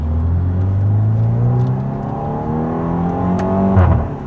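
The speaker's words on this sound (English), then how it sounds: "I quite like the deep tone that you get out of the exhaust." A 2014 VW Scirocco R accelerates from inside the cabin, its engine and exhaust giving a deep, loud drone whose pitch climbs steadily through the gears, with a brief shift near the end.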